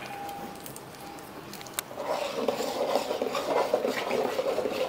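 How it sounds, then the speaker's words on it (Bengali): Sugar is stirred into thickened milk in a pan while making sandesh, a soft scraping and swirling of a spoon against the pot that grows busier after a brief clink, steady and close. "ভালোভাবে নাড়াতে হবে।"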